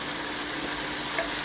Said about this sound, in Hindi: ये नलियाँ हैं ये शामिल करेंगे। थोड़ा सा प्याज के साथ ही में फ्राई कर लें